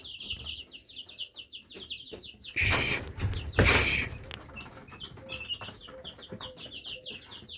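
Pigeons gathered in a garden give soft cooing and chirping calls throughout, with two loud bursts of wing flapping close by in the middle.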